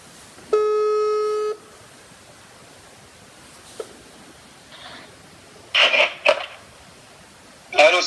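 A single ringback tone of an outgoing phone call sounds for about a second, steady and buzzy, followed by quiet line hiss and a few brief rustling clicks.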